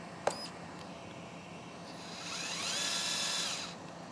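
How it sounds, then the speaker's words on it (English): A small servo on a wheeled 1/14 scale RC 914 excavator shifts its differential lock, giving a soft whirring buzz of about 1.5 seconds after a sharp click. It is fairly faint and close, with no talk. "And here we got this servo. I will move it now."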